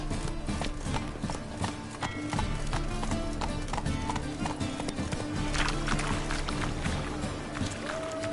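Roach the horse galloping in a video game, fast rhythmic hoofbeats pounding steadily and close, layered over background music and ambience.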